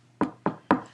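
Three sharp knocks on a wooden surface, evenly spaced and close by, each a short dull rap with a quick decay.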